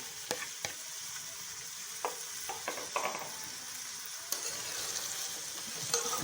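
Okra (bhindi) frying in hot oil in a kadhai: a soft continuous sizzle, quiet overall, broken by intermittent sharp clicks and scrapes of stirring.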